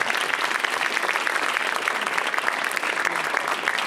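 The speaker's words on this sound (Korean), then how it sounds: "이 두 사람의 부부됨을 다시 한번 큰 박수로 환영해 주시기 바랍니다." Guests at a traditional Korean wedding ceremony for an international couple applaud, a loud, dense and continuous burst of clapping from a crowd that stays full throughout.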